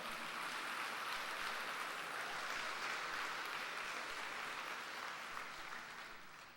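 A church congregation claps together in a dense, sustained round of applause that stays steady for several seconds and fades slightly at the end.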